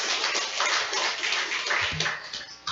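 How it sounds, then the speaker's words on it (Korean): A church congregation applauds together, a dense, sustained wash of clapping hands that stays steady and fairly loud throughout, with no voices standing out above it. "우리 하나님께 영광의 박수 올려드리겠습니다"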